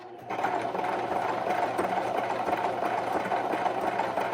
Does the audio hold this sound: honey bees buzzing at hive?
no